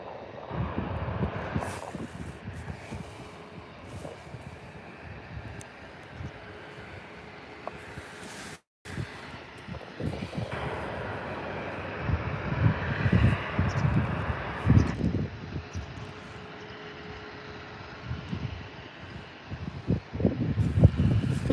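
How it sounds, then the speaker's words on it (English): Boeing 737 airliner taxiing along an airport taxiway at Birmingham, its engines a steady broadband rumble and whine heard from a distance, mixed with wind noise and swelling louder toward the end. "737 heading out, coming down the taxiway shortly"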